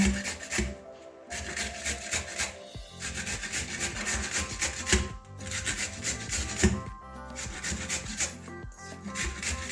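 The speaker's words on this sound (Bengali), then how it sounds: "এই যে একটা ঘষিনির সাহায্যে গ্রেটারের মানে ঘষণির মধ্যে আমি গাজরগুলোকে এভাবে" Carrots are rubbed against a hand grater for carrot laddu, close up, making repeated scraping, rasping strokes in fast bursts with brief pauses between them.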